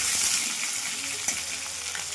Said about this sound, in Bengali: এবার লাল লাল করে ভেজে নেব আলুগুলো